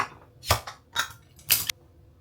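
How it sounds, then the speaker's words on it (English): Chopped onion and garlic tipped into a cooking pot in three quick bursts, each a brief clattering thud with a sharp rattle against the metal, close and fairly loud over quiet background. "In goes the onion and the garlic. I'm just gonna dump this in here."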